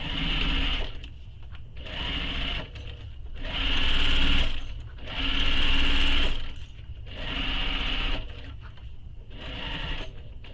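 A sewing machine stitches a mini messenger bag in several bursts of whirring motor and needle clatter, each a second or two long, separated by short pauses, close and fairly loud.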